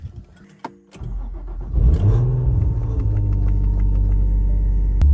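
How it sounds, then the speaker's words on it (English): An Infiniti G35 engine cold starts: a few clicks and a brief starter crank, then the engine catches with a loud rev and settles into a steady, rumbling idle close by. "Another cold start for the fams."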